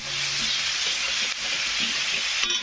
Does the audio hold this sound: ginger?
yes